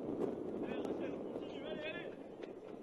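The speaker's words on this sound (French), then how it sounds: "Il y a aussi énormément de vent à Soyaux cet après-midi. On l'entend dans les micros." Low, steady wind rumble buffets the microphone beneath a voice talking continuously, at a women's football match in Soyaux, France.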